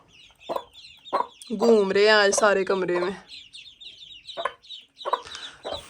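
A hen leads her chicks around inside a room, clucking in a loud, close burst with softer peeps and clucks scattered before and after, under a voice.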